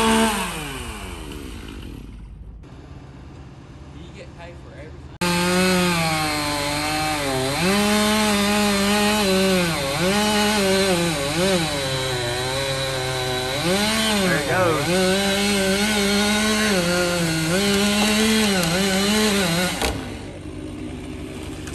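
A chainsaw cuts down a large tree in the woods, its engine droning steadily and rising and falling in pitch as it bites into the wood. Loud and close, with a quieter stretch of woodland sound before the saw starts.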